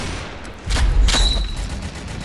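Gunfire in the World War Heroes mobile shooter game, with a low rumble followed by a sudden loud burst of shots and a sharp impact, then fading echoes.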